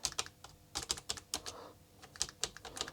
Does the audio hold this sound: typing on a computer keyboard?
yes